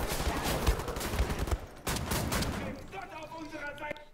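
Dense bursts of gunfire and explosive blasts from the video game Wolfenstein: The New Order, with heavy rapid shots fading into lighter rattling combat sounds, a voice talking faintly underneath.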